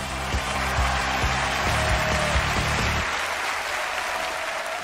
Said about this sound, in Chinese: 来我们掌声欢迎他的这位同学走上舞台